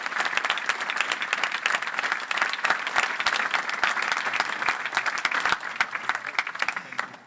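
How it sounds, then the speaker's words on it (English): Sustained applause from a conference audience honouring two award winners at an academic panel event, dense steady clapping from many hands filling the room, alone without talk, fading slightly at the end. "let's give a final round of applause for both our two award winners."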